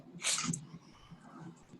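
A single short, sharp human sneeze bursts out close to the microphone, followed by a faint quieter tail in an otherwise calm room.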